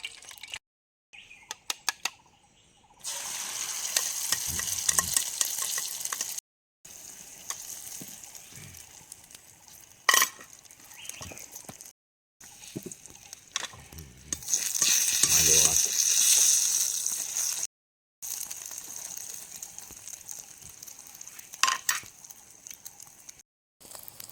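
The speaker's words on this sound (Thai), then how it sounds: "เมนูก็จะทอดไข่กินกันนะครับ" Eggs fry in a pan at a forest campsite with a steady close sizzle and crackle that stops and restarts in several bursts, with occasional sharp clinks.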